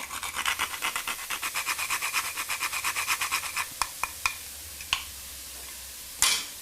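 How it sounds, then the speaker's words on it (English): A spiced apple mixture with crushed chilies and fresh nutmeg is stirred in a pan: a steady, even run of scraping strokes, then a few isolated taps and clicks as the spoon slows. "A good stir."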